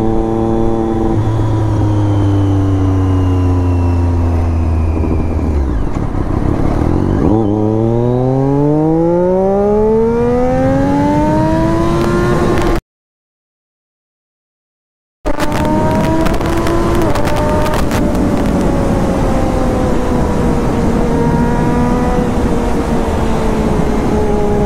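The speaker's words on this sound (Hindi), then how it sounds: "बहुत दिनों के बाद बाइक चला रहा वो भी एकदम और एकदम फ्रेश कंडीशन में" A Triumph Daytona 675 motorcycle with an increased first gear is ridden, its engine revving loud and close through rising gear pulls and shifts, broken by a brief gap of silence.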